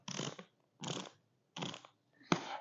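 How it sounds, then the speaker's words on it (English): A BOA dial on a 2025 Fischer RC4 MV Pro ski boot gives four quick bursts of ratcheting clicks, close and crisp, separated by short pauses. "That's the sound of BOA"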